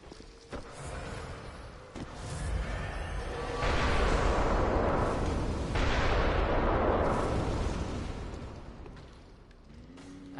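A giant cannon fires in Bloodborne, in the Ihyll Root Chalice dungeon, with heavy booming blasts and a rumbling roar that swells and lingers for several seconds. Sharper hits and footsteps sit underneath.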